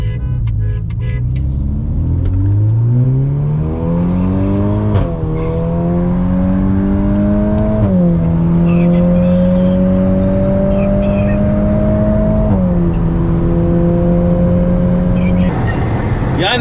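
A Volvo S90 T8 plug-in hybrid accelerates hard in a drag race against a Golf R, its engine rising through several gear changes with a steady interior drone while a person talks over it.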